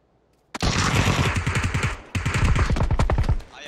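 Automatic gunfire in an online shooter game, two close, loud rapid bursts of rattling shots, the first lasting about a second and a half and the second after a brief pause, with no talking.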